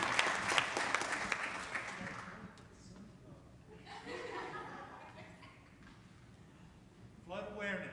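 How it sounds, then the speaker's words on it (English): Applause with some chuckles rises from a crowd at a city council meeting, clapping strongly at first and fading, while people talk over it and a voice comes in near the end. "Let's give him another round of applause."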